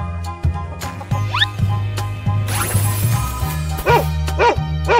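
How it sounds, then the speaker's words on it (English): A cartoon-style dog barks in several short yips over bouncy background music with squeaky sound effects. The barks grow more distinct near the end. "Dog."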